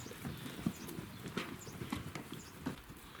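Arab-crossbreed mares with foals walking on hard ground, hooves clip-clopping in a steady, uneven rhythm at close range, with sharper individual strikes standing out over a low background murmur.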